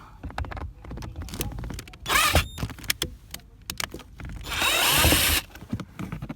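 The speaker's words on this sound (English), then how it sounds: "I am going to use the electric screwdriver." An electric screwdriver whirring to back a screw out of a 2017 Nissan Rogue Hybrid during a cabin air filter replacement, two sustained motor runs between clicks and rattles of handling, close by.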